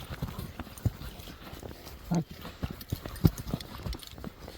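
A large horse's hooves clip-clop in an uneven series of hard knocks, fairly close, with voices talking in the background throughout.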